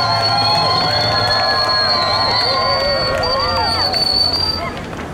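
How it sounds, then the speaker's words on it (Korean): A big outdoor crowd at a citizens' rally in Busan cheers and applauds loudly and steadily, with whistles and shouts mixed in, welcoming the head of a youth association onto the stage; the noise eases slightly near the end. "큰 박수로 모시겠습니다"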